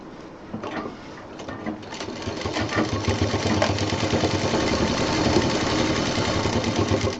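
A sewing machine stitching along the edges of a fabric college bag, a fast steady mechanical whirr and rapid needle clatter building in loudness and running continuously.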